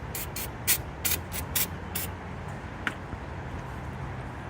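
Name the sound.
parts cleaner spray on motorcycle brake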